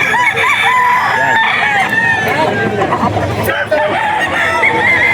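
Chickens cluck and a rooster crows amid loud, busy farmyard noise at a poultry auction market, close by, with people talking faintly in the background.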